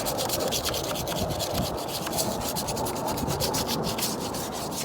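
Steady, close-up rapid scrubbing of aluminum foil and Coca-Cola against a rusty chrome bumper, a continuous gritty rasp without pauses.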